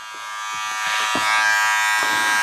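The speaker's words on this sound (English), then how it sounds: "I'm going to clip over comb with clipper open." A Wahl 100-year anniversary 1919 edition electric hair clipper runs with a steady close buzz while cutting clipper-over-comb on a fauxhawk with skin taper, with faint snipping textures of hair being cut.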